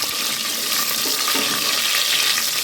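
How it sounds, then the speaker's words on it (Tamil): Small onions (shallots) sauté in hot oil with fennel seeds in a pan, giving a dense, steady close-up sizzle and crackle, with a few soft stirring scrapes and no voices. "சின்ன வெங்காயம் நல்லா வதங்கி வரட்டுங்க"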